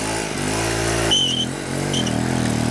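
Small engine of a 1974 Cady M3 garden tractor running steadily and pulling away for a test drive, a close, continuous mid-pitched drone with slight rises in pitch as it moves off.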